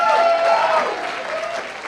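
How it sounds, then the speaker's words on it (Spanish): A church congregation applauds in praise during a worship service, a broad wash of clapping that starts full and gradually thins, with a faint sustained tone underneath. "esa alabanza de aplausos"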